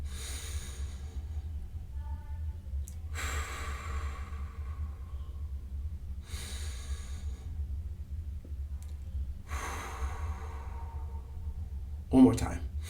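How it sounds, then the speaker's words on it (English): Slow breathing, in through the nose and out through the mouth, as in a singer's breath-control exercise: three drawn-out hissing breaths over a low steady hum, ending in a short snort. "In through the nose, out through the mouth."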